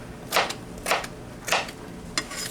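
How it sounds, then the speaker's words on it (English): A knife dices potatoes into small cubes on a cutting board, four sharp, separate chops spaced about half a second apart over a low steady hum of machinery. "show you how I'm cutting the potatoes"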